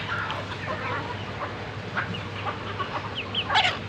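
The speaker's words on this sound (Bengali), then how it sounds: "মুরগিগুলো সাজনা পাতাটা খুবই পছন্দ করে" Chickens cluck softly and steadily in a backyard flock that has just been given leafy greens, with a brief louder squawk near the end over a constant low hum.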